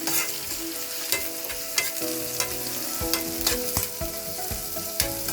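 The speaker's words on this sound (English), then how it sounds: "I'm going to add the remaining grated ginger and garlic." Onions with grated ginger and garlic stir-fry in a pan for a beef stir fry, giving a steady close sizzle broken by repeated scraping strokes of a utensil against the pan, with no talking.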